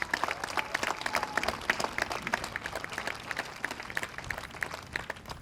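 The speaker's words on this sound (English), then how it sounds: "Can we all give a second round of applause for Rich Honan and his volunteer work?" An audience applauds at a Veterans Day ceremony with steady, dense clapping that carries on throughout, moderately distant, with no voices rising above it.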